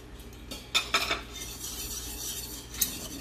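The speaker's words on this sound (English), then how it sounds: "Mix it in there with my baby whisk" A small whisk stirs a yogurt mixture in a bowl for homemade Greek yogurt, making quiet, scattered metallic clinks and scrapes that are faint and close.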